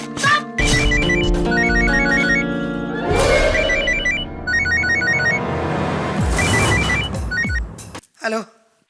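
A telephone rings repeatedly in a bright electronic pattern of short bursts, loud and close, over a dense dramatic music bed in a courtroom crime drama, ending with a brief clipped sound.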